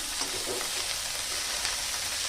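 Cabbage fries in oil with a steady, dense sizzle that fills the whole moment, and faint stirring scrapes sit beneath the constant crackle.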